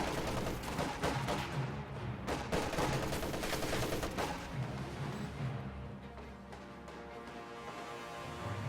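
Dense rifle and machine-gun fire crackles through a Company of Heroes battle between riflemen and Volksgrenadiers, with rapid overlapping shots forming a loud, continuous barrage and no voices.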